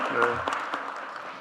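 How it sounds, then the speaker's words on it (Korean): An audience at a town hall meeting in Ulsan bursts into brief applause, a dense wash of clapping that swells and then settles, with a voice briefly audible at the start. "박수 막 치셔도 됩니다"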